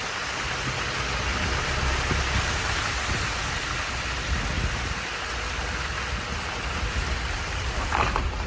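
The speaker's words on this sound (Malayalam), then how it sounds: "ഒരു നല്ല മഴ പെയ്തുകൊണ്ട് നല്ല ചളിയുണ്ട്" Heavy rain pours steadily onto a broken, muddy service road during a trip hauling a load to Thrissur. It makes a constant, dense hiss with no voices.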